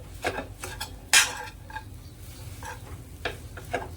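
A spoon works smashed potato and spices together in a bowl for aloo tikki. There are a handful of soft, close scraping strokes and one sharper clink against the bowl.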